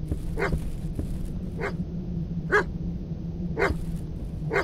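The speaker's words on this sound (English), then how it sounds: "What are you barking at?" A dog in the horror video game Stay Out of the House barks in a regular, evenly spaced series of sharp single barks over a low steady hum, with no talking.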